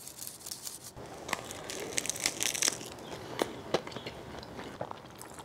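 Crispy teriyaki spam musubi being bitten and chewed up close, a series of faint crunching and crackling bites at irregular intervals.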